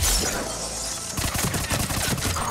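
Rapid bursts of gunfire from the Tempest weapon in the video game Mass Effect 3, a dense volley of loud close shots with overlapping game effects and no talking.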